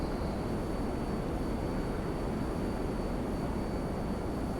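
Steady broadband roar of a fighter plane's jet engine in flight in GTA 5 Online, a constant, even wash of noise with a faint high whine, no voices and no change in level.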